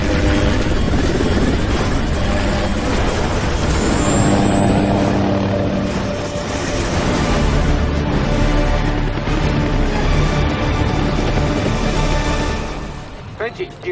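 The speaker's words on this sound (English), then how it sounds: "I'm in a helicopter going after Walker." Loud, steady helicopter rotor chop and engine roar fill a scene from the film Mission: Impossible – Fallout continuously, with voices talking under the noise.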